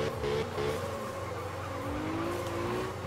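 Engine drone and squealing tires from a drifting car pulling a handbrake turn in the Absolute Drift video game, a continuous loud rising and falling whine with no pauses.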